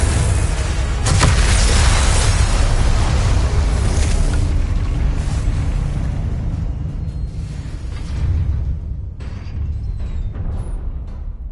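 A Confringo blasting spell in the Hogwarts Legacy video game explodes with a loud, deep, rumbling blast that rolls on for several seconds before slowly thinning out.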